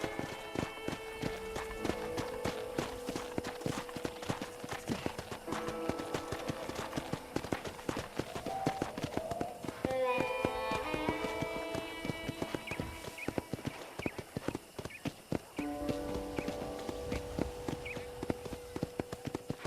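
A horse ridden across a ranch in Red Dead Redemption clip-clops steadily, its rhythmic hoofbeats close and continuous, with a whinny near the middle and background music underneath.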